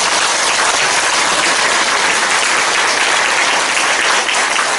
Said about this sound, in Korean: 여러분의 박수가 큰 힘이 될 것 같습니다